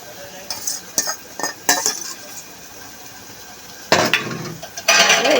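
Dry prawns and cucumber pieces are added to a curry pan on the stove, bringing a run of separate clinks and scrapes of a utensil against metal, a pause, then louder stirring and a soft sizzle.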